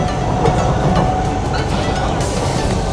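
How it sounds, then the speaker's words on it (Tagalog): A Singapore MRT train rushes past close by with a steady, loud roar and faint rail clatter, unbroken by any voices. "Pakita ko mo sa bilis ng MRT rito."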